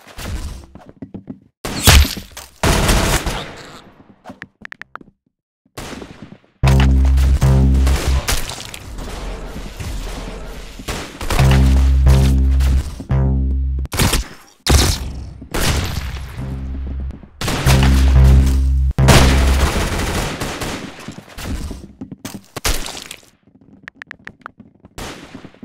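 Automatic-weapon fire in a first-person shooter video game comes in sharp, loud bursts and rapid rattling volleys separated by brief gaps. Single cracks and longer sustained strings of shots alternate over about twenty-five seconds, with no voices.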